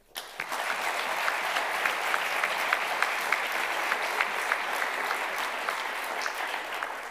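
An audience at the final of a Swiss French-language eloquence contest claps in sustained, even applause that starts abruptly and holds steady, a dense patter of many hands in a hall.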